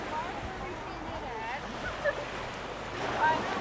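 Gentle ocean waves lap and wash onto a sandy New Jersey beach at night, a steady low surf hiss with light wind noise and faint voices in the background.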